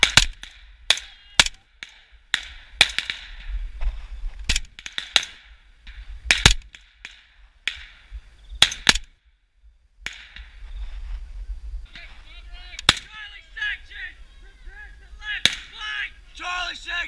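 Rapid rifle fire during a school cadet corps section attack drill outdoors, with sharp individual shots cracking irregularly, some close and loud, others farther off, while voices shout faintly in the background.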